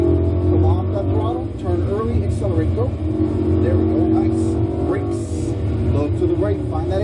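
Lamborghini Huracan on a race track accelerating out of a corner, a loud continuous engine roar with rising and shifting pitch under an instructor's steady coaching talk.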